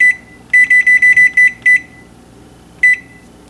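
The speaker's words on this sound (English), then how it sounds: "Let's set our timer for 10 minutes." A kitchen timer is set and beeps: a quick run of eight sharp electronic beeps, then a pause and one more beep, loud and close with nothing else audible.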